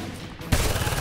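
After a brief lull, a sudden burst of loud gunfire erupts in the shooter game Homefront, with a sharp onset and then a sustained rattle of rapid shots.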